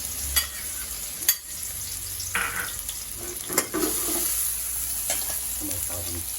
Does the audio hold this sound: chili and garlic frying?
yes